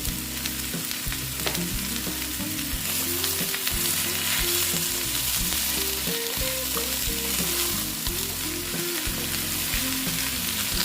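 Mixed vegetable curry sizzles and fries in a pan, a loud, constant crackle broken by repeated rhythmic scraping and stirring strokes that thump through the frying noise.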